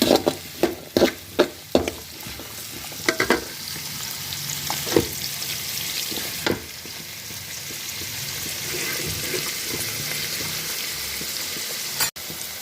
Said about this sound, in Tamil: நம்ம லைட்டாக எண்ணெயிலேயே ஃப்ரை பண்ணி விட வேண்டியதான்